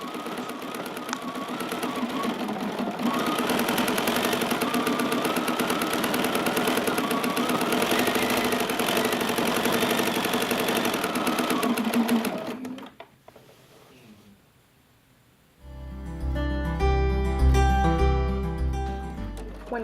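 A Bernina sewing machine stitches straight-line quilting, running as a loud, steady mechanical whir for about twelve seconds before stopping. Music follows the pause.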